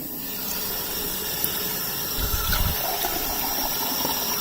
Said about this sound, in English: Water from the top, and then leave them to soak in a few inches